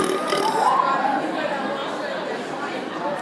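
A loud, drawn-out burp from a person trying for a record-loud belch, a rough continuous rumble lasting about three seconds with no talk over it.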